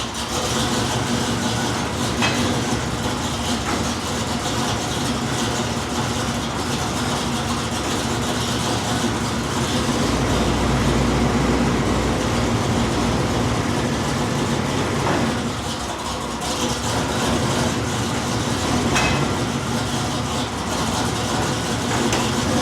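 A Chevrolet squarebody truck engine idles steadily and loudly close by, a continuous low rumble with a constant droning hum and no talking.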